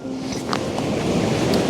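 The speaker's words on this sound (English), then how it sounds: "waves are strong" Strong ocean waves break at a seashore in a continuous roaring wash, loud and dense, with wind buffeting the microphone throughout.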